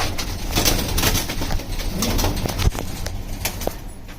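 Caged pigeons coo in repeated soft, throaty calls close by, mixed with light rustling and a few sharp knocks.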